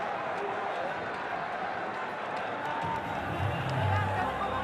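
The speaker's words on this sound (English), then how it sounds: "Look at the crowd." A crowd at a Bangladesh Premier League cricket match between Khulna Tigers and Chittagong Kings roars and claps in a steady, distant wash under commentary.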